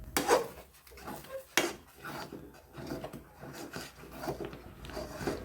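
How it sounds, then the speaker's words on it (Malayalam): A spoon stirs thick aval halwa made with jaggery in a pan, soft scraping and rubbing strokes against the metal with a couple of sharper knocks, close but quiet, with no talking. "ഇനി നല്ലതുപോലെ കട്ടിയാവുന്നത് വരെ ഇളക്കണം."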